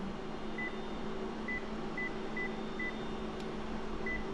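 An office printer's keypad emits about six short, clear electronic beeps at irregular intervals as a name and password are typed in, over a steady low machine hum.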